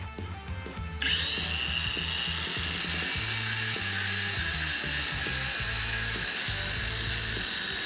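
Ryobi angle grinder spinning up and cutting, a loud sustained high-pitched whine with a gritty rasp over a rhythmic low chugging, heard close and continuous for several seconds.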